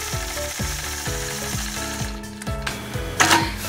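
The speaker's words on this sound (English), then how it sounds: "I'll engage my machine and quilt point to point curves." A sewing machine quilting point to point curves with a ruler runs at a steady mechanical rhythm, its needle producing repeated ticking strokes close up, with no speech.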